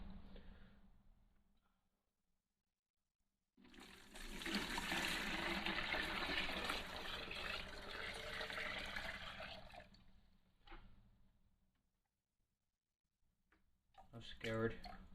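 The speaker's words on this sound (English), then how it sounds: "I'm going to pour this into 2 containers worth," Liquid from an electric composter's bucket pours steadily into two containers, a loud broadband splashing wash lasting several seconds, with a quieter trickle and clatter after it and muffled voices around.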